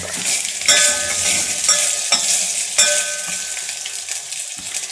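Taro root pieces tipped into a pan and stirred for a sambar, with a bright hissing sizzle broken by several sharp clinks and scrapes of the spoon against the vessel, close and loud, no talk.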